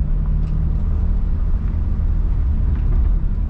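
A new BMW M3 driving in comfort mode, a steady loud low rumble of engine and road noise filling the cabin without pause, no one speaking.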